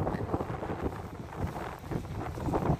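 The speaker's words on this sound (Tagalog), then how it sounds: "ang hangin-hangin na" Strong wind roars against the microphone outdoors in a city, a continuous gusty rumble that rises and falls.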